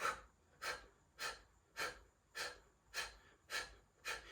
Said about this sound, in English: you're like pumping those exhales, like really engaging the abdominals